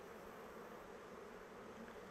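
Honey bees droning steadily at an open hive during a brood inspection, a faint continuous buzz with no voices.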